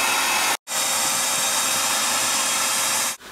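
A loud, steady motor whine of a homemade bee vacuum running, cutting out briefly near the start and again at the very end.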